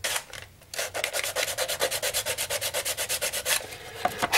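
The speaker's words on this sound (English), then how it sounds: "on styrene, I'm just beveling the edge so I can get it started" Styrene being beveled along its edge for a 1:20.3 scale railcar makes rapid, rhythmic scraping strokes, about six per second, close and steady with no voices.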